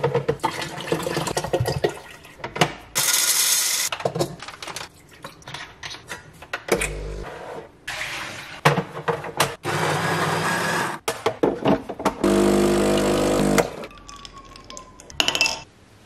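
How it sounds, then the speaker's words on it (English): A household dishwasher runs nearby, giving irregular bursts of spraying and sloshing water with short pauses and clunks, moderately loud throughout with no one speaking. "Sorry if you can hear the dishwasher in the background"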